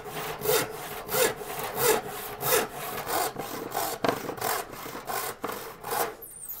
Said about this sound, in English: You're just trying to saw straight.